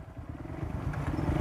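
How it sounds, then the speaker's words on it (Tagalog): An old Honda Wave 125 motorcycle idles and revs nearby, a low rumbling engine with rattling clatter, steady and moderately loud throughout the short stretch. "At ang gamitin namin itong matandang motor, Wave 125"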